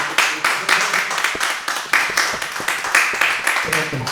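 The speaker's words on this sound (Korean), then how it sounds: "자 박수" An audience breaks into rhythmic applause at a church gathering, brisk, even claps repeating steadily for several seconds, fairly close and without other sounds.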